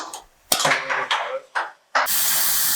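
Compressed air escaping through a worn seal on the front left air jack of a Trans Am race car: a few sharp hissing bursts, then a loud, steady, close hiss.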